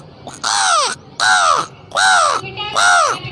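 A man imitates a crow's caw with his voice, four loud, harsh, drawn-out caws at an even rhythm, close and alone with short gaps between them.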